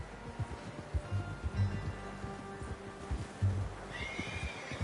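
Horse in Red Dead Redemption 2 giving a whinny among soft hoof clops, snorts and rustling, moderately quiet and close, with a brief higher bright tone near the end and no talking.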